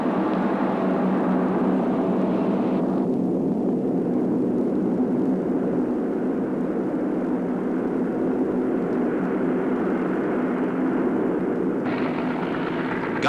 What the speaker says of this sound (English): It's time for another takeoff. Now the jets.